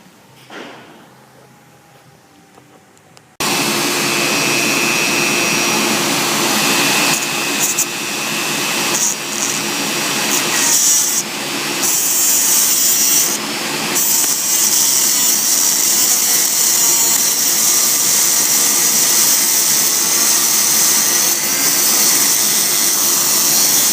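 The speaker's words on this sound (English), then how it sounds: "I'm going to cut about 1/8 of an inch of these studs off on the threaded part off with my Dremel tool and a cutoff disc." Dremel rotary tool with a cutoff disc trimming the threaded ends of steel studs: a steady high-pitched whine starts abruptly after a few seconds of quiet and holds, loud and close, with slight load changes as it bites.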